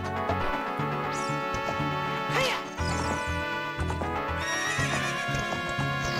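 A horse whinnies loudly and shrilly in the video game Zelda: Ocarina of Time, with hoofbeats clopping and other bright tones underneath.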